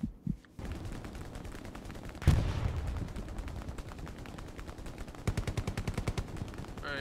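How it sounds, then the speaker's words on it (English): Gunfire in the World War II game Hell Let Loose: rapid machine-gun bursts and scattered rifle shots, some close and loud, others more distant, with no talking. "Yeah, I'm taking fire."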